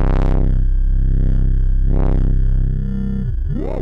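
A loud, pure sine tone from a Moog Mother 32 synthesizer holding steady, its pitch swooping and wobbling briefly near the end, heard alone.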